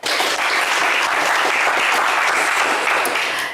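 Loud, dense applause from a television game show studio audience, continuous clapping at full strength from start to finish.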